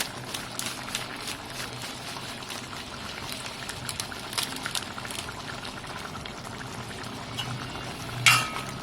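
Tirunelveli-style chicken gravy simmers in a pot with a continuous soft bubbling and burbling, and a brief clink sounds near the end.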